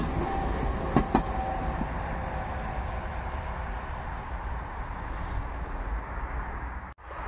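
A Czech Vectron electric locomotive hauling a train rumbles past close by near Katowice Zawodzie in winter, a loud continuous roar of wheels on rails with a couple of sharp clanks early on.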